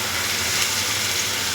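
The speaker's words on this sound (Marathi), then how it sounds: "तेल सुटेपर्यंत मी चांगलं परतून घेतले आणि आता त्यात पाणी घालते" Tomatoes sautéed in oil for tomato saar hiss and crackle as water is poured into the pan, a loud, steady, close sizzle that holds throughout and then cuts off abruptly.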